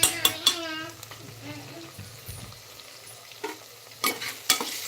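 A spoon stirs homemade khichdi masala, garam masala and turmeric frying in a pan, with sharp scraping clinks at the start and end and a soft sizzle in between.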